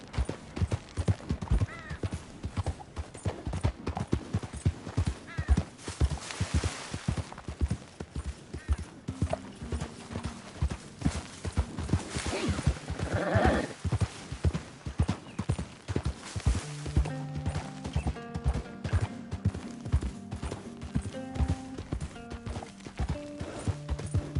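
Horse hooves clip-clop in a steady galloping rhythm in Red Dead Redemption 2, with occasional whinnies and in-game music rising in the latter half.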